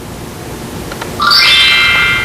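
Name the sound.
quiz correct-answer sound effect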